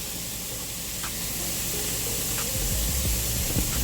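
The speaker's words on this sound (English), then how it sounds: "we're putting the seasoned side down so we can season the other side while it's in the pan" Seasoned ground beef hits a hot pan and sizzles, a loud, dense hiss that holds steady and swells slightly, with crackling pops appearing near the end.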